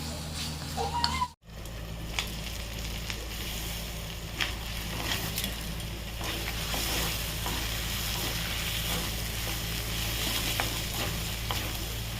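Mutton sautéing in masala in a home kitchen for mutton biryani, a steady broadband sizzle with occasional stirring scrapes, fairly close and continuous after a brief dropout near the start.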